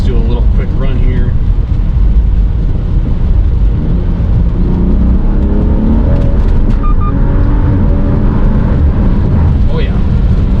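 A BMW F30 with a BOOTMOD3 burble tune in sport mode roars loudly and close, its engine and exhaust note climbing in pitch through a quick acceleration run.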